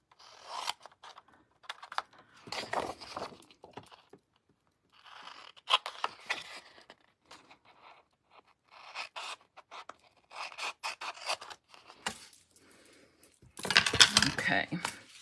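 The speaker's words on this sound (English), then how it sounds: "point the tip of your paper snips to the intersection of the 2 score lines" Paper snips cut through card stock in a run of short, sharp clipping bursts scattered across the span, with quiet gaps between them and a louder cluster near the end; no voices.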